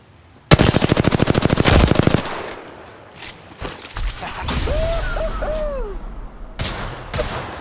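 Rapid automatic gunfire bursts from the Apex Legends battle royale, a loud dense volley up front followed by scattered shots and distant weapon fire, with no talking.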